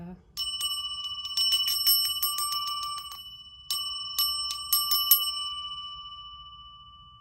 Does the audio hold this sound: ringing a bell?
yes